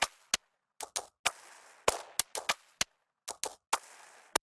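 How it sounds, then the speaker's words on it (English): A percussive loop of gunshot bangs from the Sounds of Life sample pack, with sharp, close cracks in an irregular backbeat pattern and short decaying tails between hits. "This is just gunshots banging."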